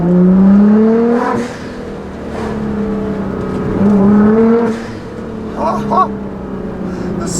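A 2015 Nissan GT-R fitted with a Meisterschaft exhaust, a tune and GFB blow-off valves accelerates between canyon walls. Its loud, droning engine note climbs in pitch through repeated rising pulls, with brief lifts between them.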